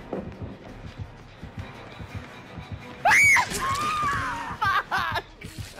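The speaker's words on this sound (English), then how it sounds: "That was such a loud scream." A loud, piercing scream bursts out in Dead by Daylight, rising sharply in pitch and then sustained with wavering shrieks, standing out over quieter background thuds and brief vocal sounds.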